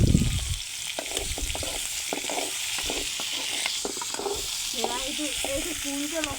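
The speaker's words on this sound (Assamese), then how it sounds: "এতিয়া আলুখিনি দি দিওঁ।" Potatoes hitting a hot pan in an Assamese home kitchen, a loud initial sizzle followed by steady frying crackle with repeated scraping stirs of a spatula, close and continuous.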